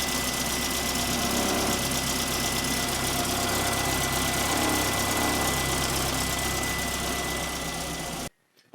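Triumph TR4 engine idling steadily after an alternator swap, a close, even, slightly rough hum with a faint whine, cutting off abruptly near the end.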